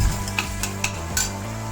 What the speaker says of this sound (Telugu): ఇందులో 1 స్పూన్ సాల్ట్ అలా వేసి బాగా కలుపుకోవాలి